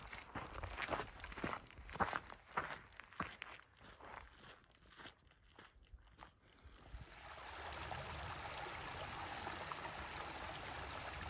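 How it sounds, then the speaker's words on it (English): Footsteps crunch on a dirt hiking trail, then give way to the steady close rush of a flowing stream that fills the second half. "we're walking along a stream that is actually flowing. And the sound of the flowing water"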